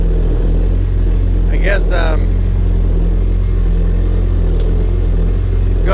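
A homemade mini jet boat's engine runs steadily on the water, held back from full speed while it breaks in. The loud, constant drone continues with a brief voice over it.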